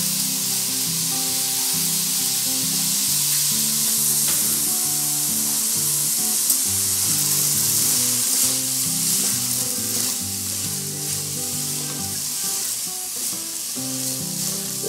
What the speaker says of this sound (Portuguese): Vou colocar aqui para a gente refogar.